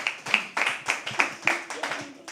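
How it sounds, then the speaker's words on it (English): A small audience at a live poetry open mic at The Habitat claps in sparse, uneven bursts, roughly a dozen sharp hand claps in a loose rhythm, close and distinct, with no one speaking. "clap for yourself if you feel like"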